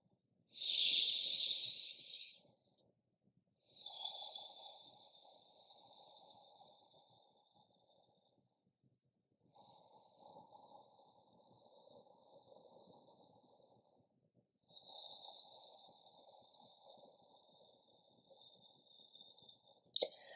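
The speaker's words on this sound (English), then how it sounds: "Rotating through a couple 6 count breaths here" Deep yoga breaths in slow six-count cycles, each long airy inhale or exhale lasting several seconds, close and hissing, separated by brief silent pauses.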